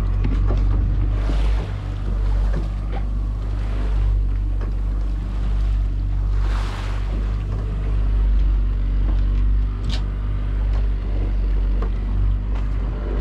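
Steady low engine drone of fishing boats out on open water outside the Golden Gate Bridge, with wind and soft water wash over a constant rumble.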